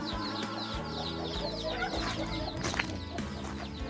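Chickens cluck and squawk in a henhouse, several birds close by with overlapping chatter and a brief louder squawk near the end, continuous throughout with no talk.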